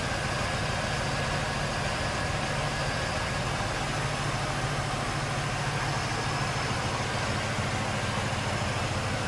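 A 5.7 liter V8 engine in a 1996 Buick Roadmaster Limited Collector's Edition idles steadily with a smooth, low rumble and no voices, holding an even level throughout.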